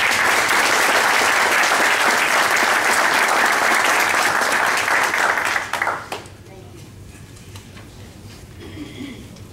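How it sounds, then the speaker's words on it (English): A meeting audience gives a loud, sustained round of applause with steady clapping for about six seconds, then it cuts off sharply into a quiet room with faint background noise. "Let's give Shawnee's a round of applause."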